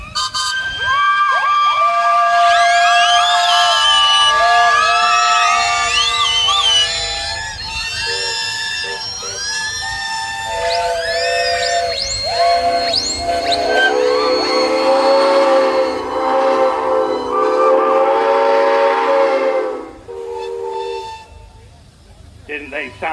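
Many steam engine whistles, miniatures and large engines alike, sounding together at a steam fair, a loud overlapping chorus of sliding shrill tones over crowd noise and some speech, fading toward the end.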